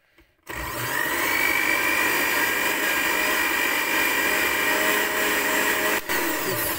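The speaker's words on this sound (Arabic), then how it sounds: "بس نشغل الخلاط" A blender whirs steadily at high speed blending corn oil and milk for homemade cream cheese spread, starting abruptly after a brief quiet moment and running loudly with a tiny dip near the end.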